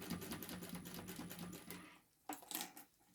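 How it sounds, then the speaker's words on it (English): A sewing machine stitches fabric for rolled bag handles, with a rapid, even mechanical clatter for about two seconds. It stops, then a few short bursts follow, heard close and fairly quiet. "I am actually sewing the wrong side"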